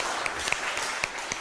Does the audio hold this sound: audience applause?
yes